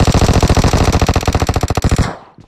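Loud, close machine gun fire in the mobile game PUBG Mobile, a fast, evenly spaced stream of shots for about two seconds before cutting off into a brief echoing tail.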